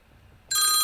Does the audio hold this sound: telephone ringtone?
yes